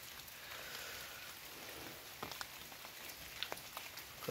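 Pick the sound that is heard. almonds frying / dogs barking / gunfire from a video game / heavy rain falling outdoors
heavy rain falling outdoors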